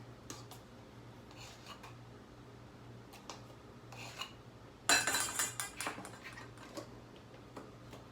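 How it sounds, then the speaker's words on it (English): A metal spoon is dried off with a cloth in a quiet kitchen: soft rubbing and light clinks come in a brief burst midway, with faint scattered ticks around it. "Let me dry off my spoon since I didn't grab more than one."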